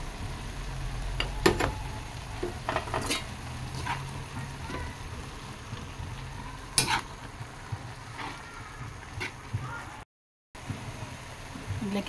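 Bihon guisado rice noodles being stirred in a pan after Chinese celery goes in, with a steady low sizzle and scraping, clattering strokes of the utensil at irregular intervals, and a brief dropout near the end.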